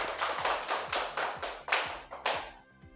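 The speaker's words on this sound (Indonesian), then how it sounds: "Tepuk tangan." A class of students in an Indonesian school lesson claps in short rhythmic bursts, about seven quick rounds of hand claps close by that stop abruptly at the end.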